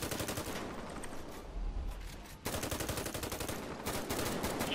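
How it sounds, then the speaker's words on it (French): Automatic weapon fire during a police manhunt, a dense burst of rapid shots sustained across the whole stretch, briefly dipping mid-way before resuming loud and continuous at a distance. "J'ai tiré arme automatique au niveau des troupes."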